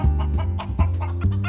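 A chicken clucks repeatedly in a steady rhythm of short, close, loud calls, heard alone without any talk.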